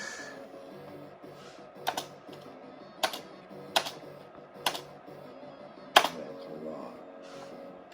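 Keys on a computer keyboard attached to a 1991 AMI Series 39 486 PC with a 5x86 133MHz CPU are pressed during a game: a handful of crisp, separate clicks over a low, steady background hum.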